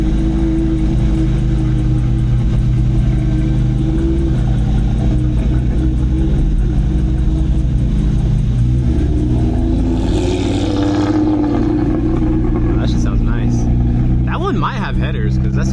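A loud, deep exhaust from a Porsche GT4 RS with a titanium Valvetronic exhaust drones steadily up close, swelling briefly as the engine revs, with people talking over it.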